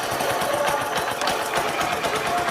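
A 2018 Bajaj CT100 motorcycle, single-owner and secondhand, idles steadily after starting, its small engine ticking in a fast, even putter close to the mic with no talk.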